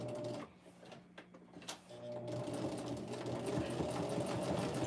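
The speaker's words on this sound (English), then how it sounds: "I'm going to take it back to my machine and I'm going to stitch a 1/4 inch across." Home sewing machine stitching a quarter-inch seam with a short backstitch while making a pocket tissue pack cover, a steady close mechanical whir that starts after a brief pause and runs continuously.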